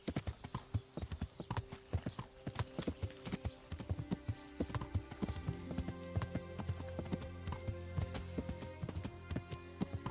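Horse hooves clip-clop steadily in a video game, a brisk run of close, crisp hoofbeats over layered game music and ambience, with no talking.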